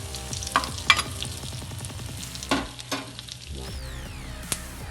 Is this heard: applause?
no